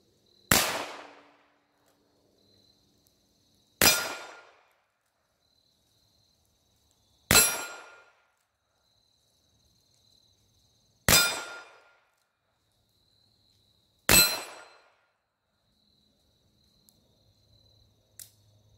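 Five sharp, loud shots from a Smith & Wesson Model LR .22 pistol, evenly spaced about three to four seconds apart, each with a short ringing decay into near silence.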